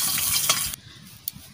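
White cooking oil hits a hot pan with a short, loud burst of sizzling that drops off sharply within a second, leaving a faint crackle and one small pop.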